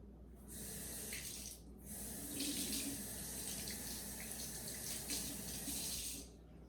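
Tap water runs steadily into a kitchen sink to wet a knife while making lemon squares, a continuous close splashing stream that briefly stops and restarts, with no talking.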